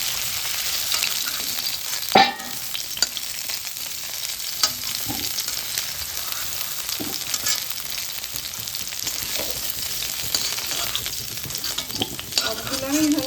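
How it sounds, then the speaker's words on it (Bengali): Drumsticks sizzle and fry in mustard oil as a spoon stirs them in the pan, a steady bubbling hiss broken by a few sharp scraping clanks, close and without any talk. "দেখো ভাজাটা আমার হয়ে গেছে, ঠিক এরকম হবে ভাজা"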